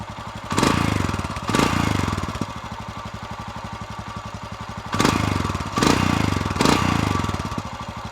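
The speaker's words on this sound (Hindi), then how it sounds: "एग्जॉस्ट साउंड इज़ वेरी बेसी, बूमी साउंड है।" A Royal Enfield Scram 440 motorcycle's exhaust thumps in a rapid steady idle beat, broken by several bassy revs that swell and fade, loud and close.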